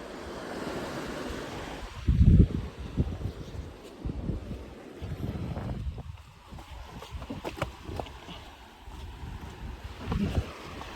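Sea waves wash in at Mastraam Bapu beach, a rolling surge mixed with gusting wind buffeting the microphone, swelling in bursts of rush and crash.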